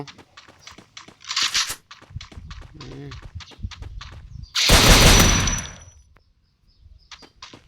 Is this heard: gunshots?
yes